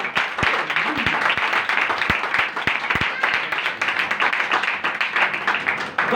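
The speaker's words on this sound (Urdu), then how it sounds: "ٹھنڈی تالیاں نہیں, ذرا طاقت کے ساتھ تالیاں" A church congregation claps harder on request, a steady, loud wash of applause with sharp individual claps standing out, continuing throughout without pause and with voices faintly mixed in.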